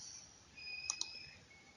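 Two quick, quiet computer mouse clicks land close together near the middle, set against a faint steady background hum while someone works in AutoCAD drawing software.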